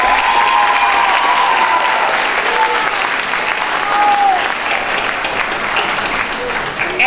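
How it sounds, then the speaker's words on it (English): A graduation audience applauds parents and family, a loud dense sustained clapping that fills the hall without a break and carries a few faint cheers. "Let's take a moment to give them a round of applause."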